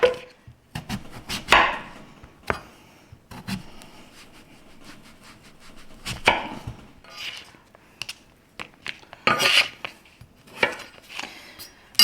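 A knife chops butternut squash into cubes on a board, giving irregular sharp knocks and thuds with quieter scraping between, close and clear with no talk.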